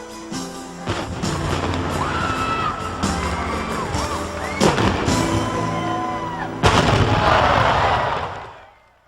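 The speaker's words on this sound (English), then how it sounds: "the Braves rewarded their faithful and woke up Atlanta with some fireworks" Fireworks bursting after an Atlanta Braves baseball game that ended at 3:55 a.m., with repeated sharp bangs and crackles over a cheering, shouting crowd, loud and sustained before fading out.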